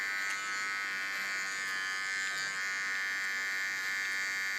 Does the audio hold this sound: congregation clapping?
no